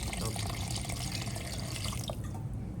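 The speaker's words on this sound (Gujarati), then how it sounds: "પાણી આપણે નાખી દીધું છે" Water splashes and trickles steadily into a cooking pot for a crab dish, a continuous running pour with a voice speaking over it.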